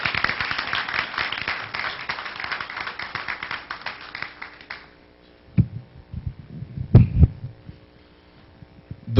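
Applause from a college audience at a Morehouse College event for a performer, dense clapping for about five seconds that stops abruptly, followed by quieter room noise with a few scattered louder thumps.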